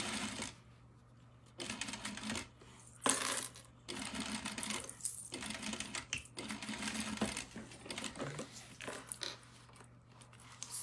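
A sewing machine stitches fabric and back stitches on a simple skirt in short bursts of rapid mechanical clatter separated by brief pauses, close and fairly quiet, with a low steady motor hum underneath.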